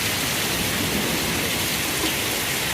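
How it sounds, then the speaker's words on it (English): Heavy rain mixed with hail pounds down outside in a storm, a dense, unbroken hiss of water and ice close by with no voices. "It's hailing."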